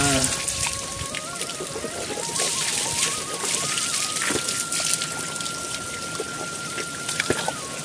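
Water trickling and pouring at a mountain spring in the hills, a constant splashing flow heard up close, with someone talking over it and a faint tonal melody running underneath.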